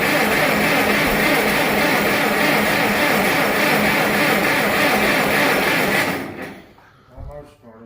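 A tractor engine cranks and labours in freezing cold on a low battery, with a little throttle applied, a loud steady drone filling about six seconds before cutting out and leaving quiet low rumbles.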